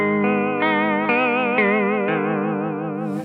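An electric guitar chord rings through a Boss VB-2w or TC Electronic Tailspin vibrato pedal set high, one sustained chord wavering in a quick, even pitch wobble, loud and close with no talking.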